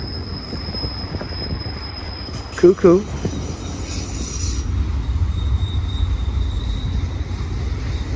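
A long Union Pacific freight train rumbles past close by at Cajon Pass with a steady rolling roar, a brief metallic squeal, and a short spoken word partway through.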